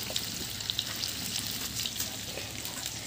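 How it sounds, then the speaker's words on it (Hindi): Masala fish frying at a Hyderabadi fish fry stall, a continuous bright crackling sizzle of oil with scattered pops and light clatter, heard close and steady. "यहाँ पर मछली है और यहाँ पे फ्राई हो रहा है"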